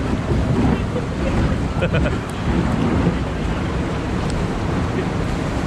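Wind buffets the microphone and water rushes constantly around a boat on the Timber Falls log flume at Pleasurewood Hills, a steady noisy roar with faint voices mixed in.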